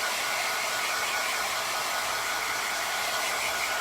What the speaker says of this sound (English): Let's go ahead and dry that first coat.